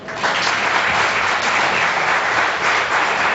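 An evangelical congregation at a deliverance worship service applauds in a loud, steady, dense wash of clapping that holds evenly throughout.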